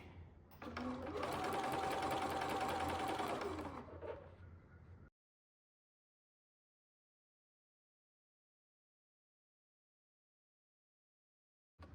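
A sewing machine stitches through a bulky fabric strap on a sun hat, running in one steady whirring burst of about four seconds, close and loud, then stopping into silence.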